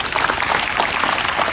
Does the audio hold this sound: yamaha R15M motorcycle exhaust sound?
no